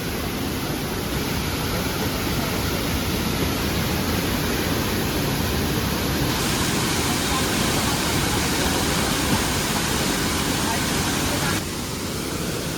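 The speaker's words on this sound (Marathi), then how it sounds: "भरलाय धबधबा" A village waterfall in full flow pours with a steady, dense roar of rushing water, loud and unbroken from start to finish.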